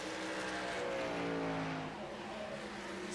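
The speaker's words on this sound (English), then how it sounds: "That's why we hear Devin doing that shifting" Race truck engine in the iRacing game at New Hampshire Motor Speedway, an Intensity Apparel Truck Series event, whining loudly as the driver shifts gears, the pitch rising and dropping between shifts, with no talk over it.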